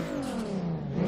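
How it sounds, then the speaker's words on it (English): A turbocharged VR6 engine in a Mk3 Volkswagen Golf revs briefly up close, with a whirring, rising turbo tone and a light blow-off valve hiss riding on top. "Obviously you can hear that turbo with the little blow-off valve."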